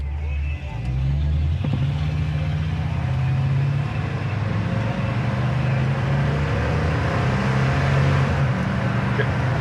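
A 1968 Buick Riviera drives along, its engine drone steady and loud from inside the cabin, with gear shifts shown by shifts in engine pitch and faint voices underneath.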